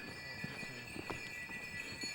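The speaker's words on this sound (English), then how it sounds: "here are people actually riding up here on these horses" Horses carry riders on a mountain track in northwest Yunnan, China, their hooves clip-clopping in an uneven rhythm at moderate distance over steady background hiss.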